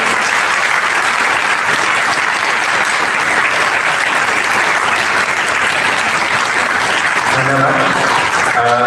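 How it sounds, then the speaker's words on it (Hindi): Loud, sustained applause from a crowd honouring a yoga teacher at an International Yoga Day event, steady clapping throughout with a voice beginning to speak near the end. "एक बार जोरदार तालियों से सम्मानित करें हमारे योग शिक्षक को"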